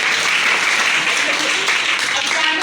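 Schoolchildren at a composite school in Bhadohi clap together in a brief, dense burst of applause, even and close throughout.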